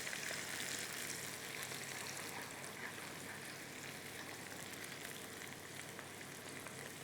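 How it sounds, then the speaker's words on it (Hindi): Green chilies sauté in a pan for khichdi, giving a steady, soft sizzling hiss with faint crackle that holds even throughout, low in level and with no voices over it. "हरी मिर्चों को हल्का सा हमने करना है सौते"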